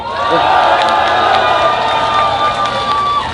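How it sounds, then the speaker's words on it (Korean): A large outdoor crowd at a Gwanghwamun rally for fairness claps and cheers loudly and continuously, a wash of hands and raised voices with occasional whistles. "박수 한번 치겠습니다."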